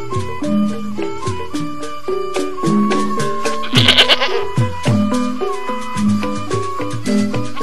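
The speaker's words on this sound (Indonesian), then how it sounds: "itu kambing aku tuh" A goat bleats repeatedly and loudly nearby, a wavering nasal call over a rhythmic background of music.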